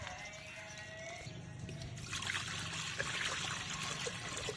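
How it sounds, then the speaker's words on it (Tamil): Water poured into a clay pot for boiling dal in an outdoor village kitchen, a quiet steady trickle that grows fuller and splashier midway, with low background hum and no talk. "பருப்பு வேக விடுறதுக்கு தண்ணி ஊற்ற போகிறோம்."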